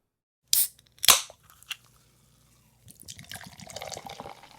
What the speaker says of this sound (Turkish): İşte o kutu kolaların, gazozların açılma anındaki sesi